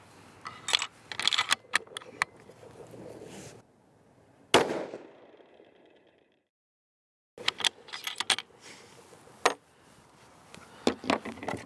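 A rifle fires a single shot at a target 210 yards away: one sharp, close crack with a brief ringing tail, set between stretches of clicking and rustling handling noise from the shooter's gear.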